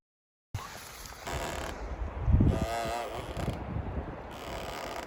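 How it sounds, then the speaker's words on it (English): Fallen deadwood on an Arizona hiking trail creaks and groans as wind pushes it, a drawn-out rubbing squeal over a steady background rush of wind, fairly close and moderately loud. "that's the sound of this deadfall with the wind"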